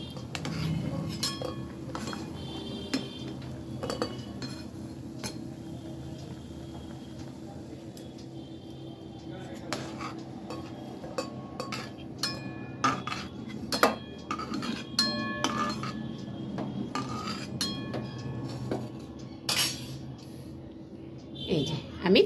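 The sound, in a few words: cauliflower lifted out of a pot with utensils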